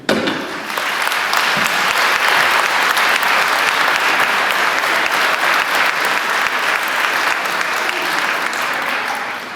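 An audience at a New Year's greetings ceremony applauds, dense sustained clapping that starts suddenly, stays loud and even for nearly ten seconds and then tapers slightly at the end.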